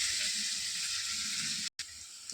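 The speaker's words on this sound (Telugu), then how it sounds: "బెండకాయ బాగా వేగుతూ ఉంది ఆయిల్లోనే ఫ్రెండ్స్" Okra pieces frying in oil, a steady close bright sizzle that runs unbroken apart from one brief dropout near the end.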